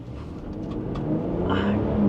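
A 1997 Nissan Patrol Super Safari engine in four-wheel-drive low range rumbles low and steadily, building slightly toward the end, heard close up with no talking.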